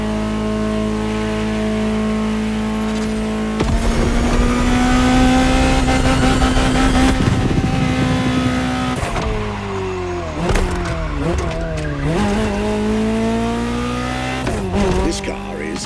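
A Ferrari 250 GTO in The Crew Motorfest holds a steady, loud engine drone, rises in revs, then gives several sharp, swooping pitch shifts and squeals as the tires skid.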